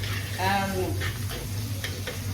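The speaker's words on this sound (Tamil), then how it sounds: "அப்புறம் ஈரலையும் கொஞ்சம் ஃப்ரை பண்ணிடுவோம்" Beef liver frying in oil in a pan: a continuous soft sizzle under a low steady hum, with a few faint ticks and light stirring.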